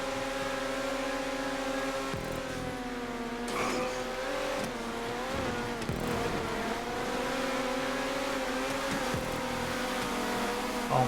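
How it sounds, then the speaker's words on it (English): Race cars in the video game GTA 5 drone steadily around a track, with layered engine notes rising and falling as the cars accelerate. The roar is continuous and fairly loud throughout. "Oh my god, so many cars."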